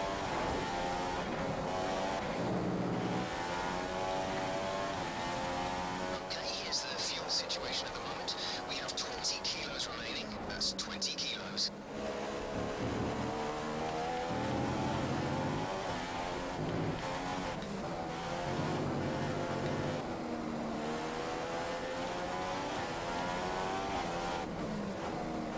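Formula 1 car engines in the F1 2015 racing game at the Spanish Grand Prix, with a pack of cars stuck behind a Marussia: a steady high engine whine rises and falls through gear changes under nearly continuous talking.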